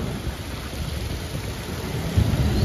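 Heavy rain drums on a car during a drive, a dense, loud, unbroken hiss with low rumbling underneath.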